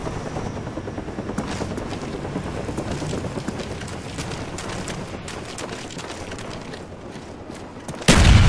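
A care package helicopter arrives in Call of Duty: Black Ops. A loud, steady rotor chop throbs throughout, mixed with game noise, then ends in a sudden loud burst at the very end.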